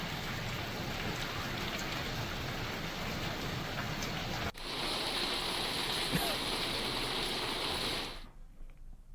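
Heavy monsoon rain pours down steadily in Noida, Delhi NCR, a dense continuous hiss that swells louder midway before cutting off near the end.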